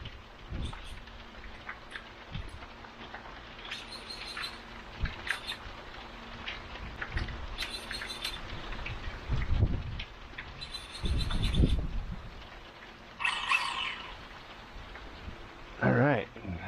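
Steady rain falls around a running Mini B brushless RC car, a constant hiss and patter broken by several louder splashy bursts and sharp crackles.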